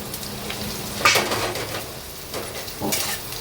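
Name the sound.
onion and paste frying in pan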